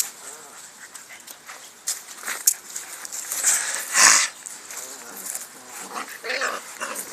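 Several dogs play together, with soft whimpers, sniffing and scuffling bursts that swell and fade, one sharper peak midway, close by, with voices faintly talking in the background.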